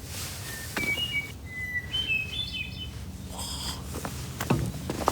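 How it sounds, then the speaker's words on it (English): Hermit thrush singing in a forest, a series of clear fluted whistled phrases at varying pitches, moderately near, with faint background noise and a few soft knocks. "My hermit thrush."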